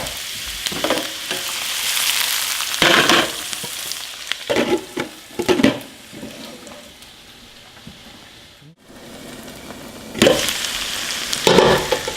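Onions, peppers and garlic frying in a pan, a continuous sizzle broken by several bursts of stirring and scraping, close and fairly loud, with a brief lull near the end.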